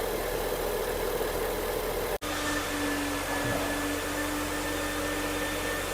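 A BMW E39 engine idles steadily throughout, a constant low hum with a faint tonal whine and one brief dropout near the start.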